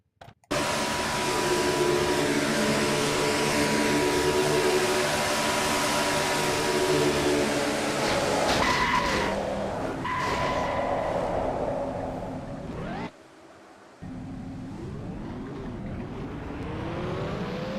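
A race car in a NNSCRA Castrol GTX Cup Series racing video game starts up and drives down pit road, its engine a steady loud drone that cuts out briefly and then resumes.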